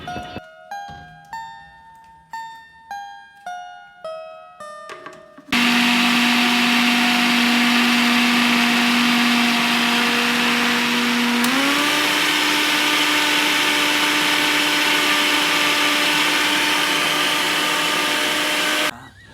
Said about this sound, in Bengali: আপনি একসাথে ব্লেন্ডিং করতে পারেন অথবা আলাদা আলাদাভাবে তিলগুলো বা সর্ষেগুলো আলাদা আলাদা ব্লেন্ডিং করে পরে মেশাতে পারেন